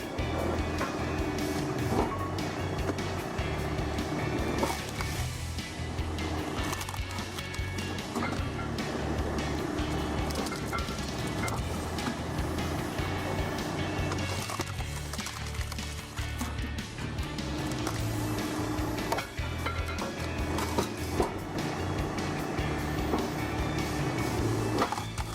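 A tractor-powered hydraulic log splitter runs steadily, a dense mechanical drone with scattered knocks and clunks from the wood and machinery throughout.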